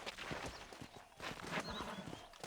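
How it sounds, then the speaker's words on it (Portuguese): A horse's hooves clip-clop in a steady walking rhythm across Red Dead Redemption's Old West terrain, quiet and somewhat distant amid game ambience. "Cavalo."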